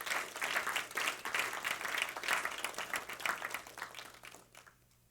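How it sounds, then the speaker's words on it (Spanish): Applause from a church audience, a dense steady patter of many hands clapping close by for several seconds before dying away into quiet. "Dan un aplauso al Rey de Reyes"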